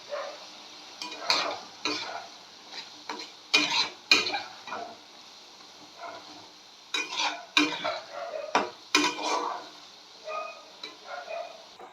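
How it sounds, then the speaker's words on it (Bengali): Raw potatoes with spices sautéed in a pan for ghugni, heard as intermittent close scraping and stirring strokes in uneven bursts over a faint sizzle, with quiet gaps between strokes. "এই সময়তে আমি আলুগুলো এখানে দিয়ে দেবো। আলুগুলো যেহেতু আমার ভাজা নেই, তো এটা এখানে দিয়ে একটু ভালো করে কষলেই কিন্তু রান্নাটা হয়ে যাবে।"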